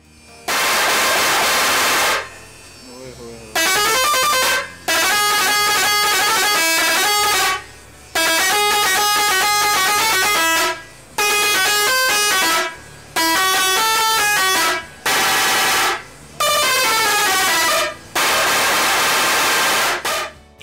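A loud musical vehicle horn with eight push buttons plays a string of short melodic tunes, bursts separated by brief pauses, each a rapid run of bright tones.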